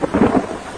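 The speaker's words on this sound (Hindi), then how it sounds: "बारिश और तूफान इतना तेज था" Thunder rolls through a heavy rainstorm in a brief burst, a deep rumble blending with the wash of falling rain, fairly close and loud.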